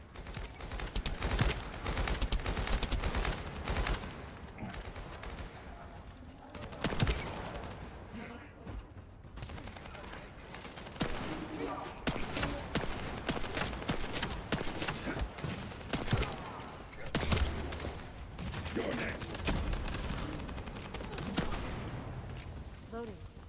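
Sustained automatic gunfire and rapid bursts of shots in The First Descendant video game, loud and dense throughout with brief lulls, layered with battle noise.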